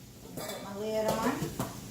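A metal lid set onto a pot of simmering rice, giving a couple of soft clanks and a ringing rattle over a quiet kitchen background.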